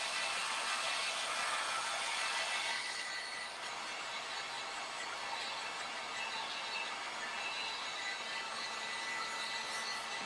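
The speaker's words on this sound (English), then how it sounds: "heat gun to dry that up" A heat gun blowing steadily over wet paint on a scarecrow and chalkboard craft project, giving a continuous airy, whining hiss close by that holds level throughout without pause.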